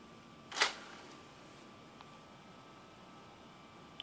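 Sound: Xbox 360 disc tray opening

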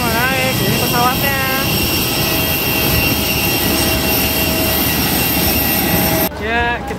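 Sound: airplane

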